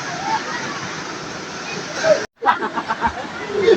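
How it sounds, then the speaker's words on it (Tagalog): Matimos Falls in Tangtangan, South Cotabato, rushes as a steady broadband wash of water, with a voice speaking over it and a brief dropout near the middle. "ito na pala yung Matimos Falls dito sa Katangtangan"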